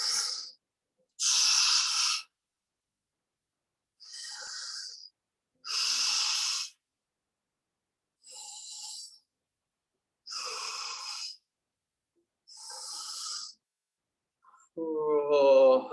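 Slow, deep breaths during a lockdown stretch class, about eight evenly spaced breathy inhales and exhales separated by silence, close to the microphone, with a brief voiced sound at the end.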